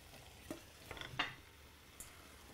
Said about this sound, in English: Give it a good stir so everything gets covered in the sauce.